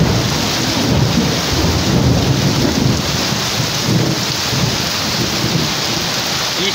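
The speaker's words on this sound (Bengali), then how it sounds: "বৃষ্টির ঘাপানটা একটু দেখুন" Torrential festival-season downpour during flooding, with water nearly over the road: a dense, steady roar of heavy rain close by, low thunder rumbling beneath it throughout, and some wind buffeting the microphone, with no voices.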